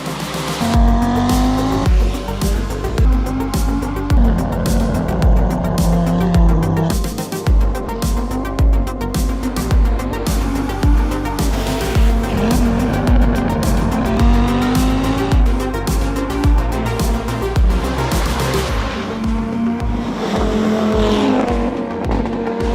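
Audi Quattro rally car driven hard on a loud, continuous run, engine roaring and revving through gear changes with repeated tire squeal and skids throughout, close and dominant with no talk.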